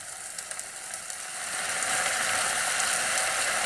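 Marinade cooking in a pan on a stove turned up to very high heat, a steady dense sizzle that swells and grows louder after the first second and a half, close and continuous with no voices.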